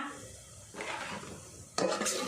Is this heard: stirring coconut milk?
yes